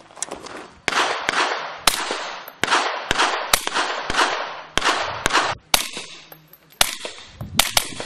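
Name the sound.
SPS M4 300 Blackout subsonic rifle firing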